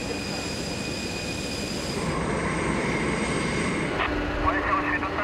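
A Boeing 747-400 jet airliner's engines roar steadily with a thin high whine on top, loud and continuous, while faint voices carry in the background.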